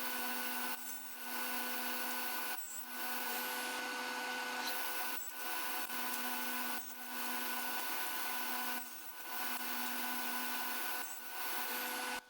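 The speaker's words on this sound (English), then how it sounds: "I set my blade to 45 degrees and cut the bevels." A power saw with its blade tilted to 45 degrees cuts bevels in wood salvaged from an old bookcase, a steady loud whining roar with several brief dips between passes, and no talking.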